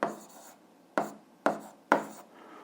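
Pen strokes on paper while working an 8th-grade algebra exercise: four short, close scratchy bursts, one long then three brief ones spaced about half a second apart, with no talking.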